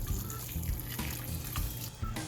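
Starchy pasta water poured into a white pesto pasta sauce, a steady close splashing stream lasting the whole moment without talk.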